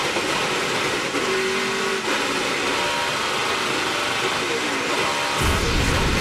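In-car sound from the No. 29 Chevrolet Silverado NASCAR Camping World Truck Series race truck: a loud, dense engine roar fills the cabin continuously, with a brief tonal shift partway through and a sharp change near the end.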